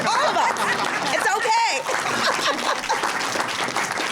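Audience at a community news conference applauding steadily, a dense wash of close hand claps with a few voices and chuckles mixed in, holding level throughout.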